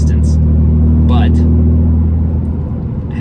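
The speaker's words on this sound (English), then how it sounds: "And it's hard to argue with that BMW straight 6 noise." The 3.0-litre straight-six of a BMW Z3 3.0i roadster gives a loud, deep, smooth hum that holds steady and then eases slightly toward the end, with a voice speaking briefly over it.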